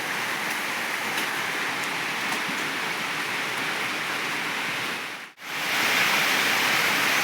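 Steady, dense rain hisses down evenly, briefly cutting out near the end before returning as loud as before.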